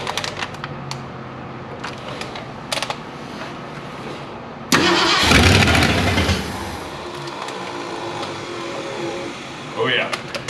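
An old Ford Unibody pickup truck, sitting unused for 29 years and running on regular fuel, cranks with ticking and clatter, then its engine catches with a loud surge and settles into a rough idle, under occasional talk.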